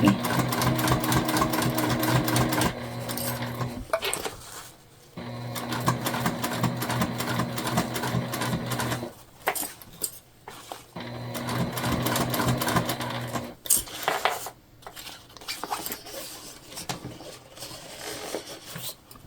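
A sewing machine stitches a tote bag in bursts of loud, steady mechanical whirring, stopping and restarting several times with brief quiet gaps between runs.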